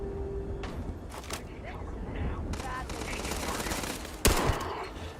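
Gunfire during a fight in the video game Starfield, scattered bursts and shots under steady game noise, with one sharp loud crack near the end and a voice talking over it.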